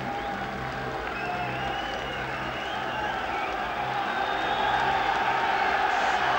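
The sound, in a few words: boxing arena crowd applauding and cheering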